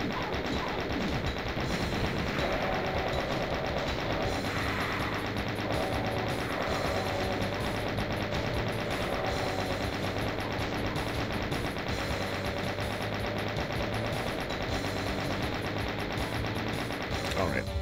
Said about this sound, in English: We're just going to shoot straight ahead of us.